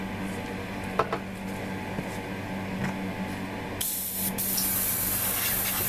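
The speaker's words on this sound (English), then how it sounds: "time for a gloss coat" Airbrush spray of Mr. Color 46 Clear gloss coat onto a Hasegawa 1:72 F-4EJ Phantom II model kit, a steady close hiss that swells louder partway through after a quieter start with faint clicks.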